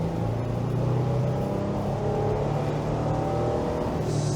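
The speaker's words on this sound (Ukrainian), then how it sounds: "Давайте зараз трошки з більшої швидкості нажмемо газ підлогу." A Toyota FJ Cruiser with a 4.0-litre V6 pulls hard at full throttle on the road, its engine holding a steady, loud drone with wind and tyre noise, alone and without talk.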